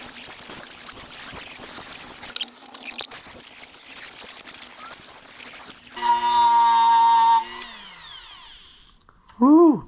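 A rotary tool grinding down a copper cross bail, a close, steady, gritty whir, then a rising high-pitched motor whine as it spins up and winds down near the end.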